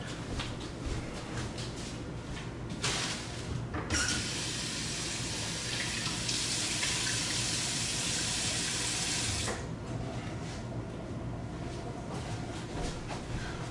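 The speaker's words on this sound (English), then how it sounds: "Regular cotton cloth. Take it, get it wet," A regular cotton cloth is soaked under a running tap for several seconds, a steady close rush of water that then stops, with quieter handling sounds before and after.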